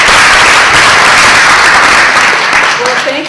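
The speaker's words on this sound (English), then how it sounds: "So let's give her a round of applause." Audience in a lecture hall applauding after a speaker's introduction, a loud, steady wash of clapping from many hands that holds for a few seconds and then begins to thin out.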